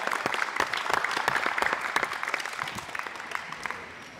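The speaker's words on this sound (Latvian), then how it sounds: "Sākam ar aplausiem? Kolosāli! Ierodamies ar aplausiem!" Audience clapping at the start of a live talk show, a dense burst of hand claps that is strongest early and gradually thins and fades over a few seconds.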